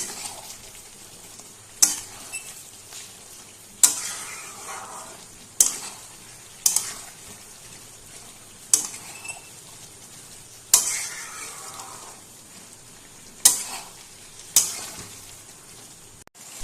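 Masala sautéed in oil in a pan over low to medium flame, with a steady soft sizzle broken by regular scraping strokes of a spoon against the pan, about one every second or two, close and clear.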